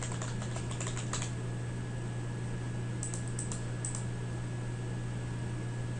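Rapid typing on a computer keyboard, a quick burst of soft clicks followed by a pause and then a few more scattered keystrokes, over a low steady hum.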